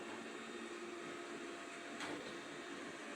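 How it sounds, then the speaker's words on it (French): A robot-style vacuum cleaner runs indoors near a table, giving a faint continuous whirring hum with a brief brushing sweep midway, heard alone without talk. "Je regarde ce que fait l'aspirateur."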